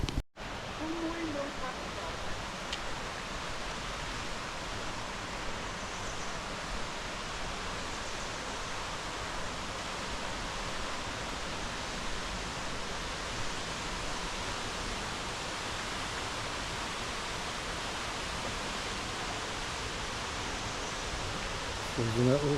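A small creek in Oirase Gorge, Aomori, rushing steadily as a broad, even wash of water noise, close by and continuous for the whole stretch.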